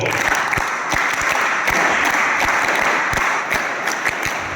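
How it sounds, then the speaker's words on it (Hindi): A group claps loudly and continuously at a scouts and guides camp session, a dense, steady wash of applause with distinct claps punctuating it throughout. "इसके लिए जोरदार ताली बजाओ।"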